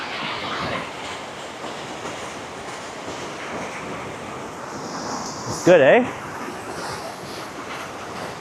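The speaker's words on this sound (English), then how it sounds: "How fast that water is rushing through there." Steady broadband rush of fast-flowing water passing through a narrow spot outdoors, continuous and fairly close, with someone talking over it and a brief louder vocal burst near the end.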